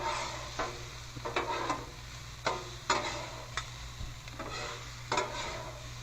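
Oyster sauce sizzles on a Blackstone griddle among steak and shrimp fried rice, with a steady hiss broken by repeated sharp scrapes and taps of a spatula stirring the food.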